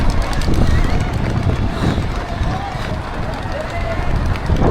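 Strong wind buffets the microphone during a marathon, a loud continuous roar mixed with footfalls and breathing of a runner, with brief speech underneath.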